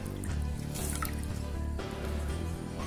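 Water steadily draining and dripping from freshly washed taro leaves set in a bowl, a soft continuous trickle with a low background hum and no talking.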